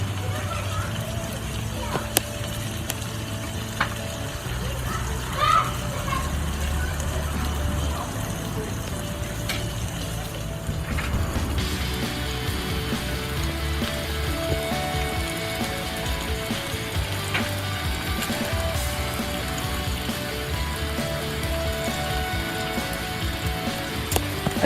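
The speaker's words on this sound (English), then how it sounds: "we'll just leave it without covering to fry for a few minutes" A spicy Fiji-style mud crab curry sizzles and fries uncovered in a pot, a steady close hiss and bubbling that runs throughout while a voice talks over it.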